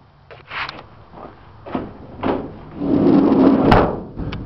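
The side door of a 2006 Dodge Sprinter 2500 diesel van is worked through a few clunks and rattles, ending in a longer scraping slide and a solid close, loud and close by.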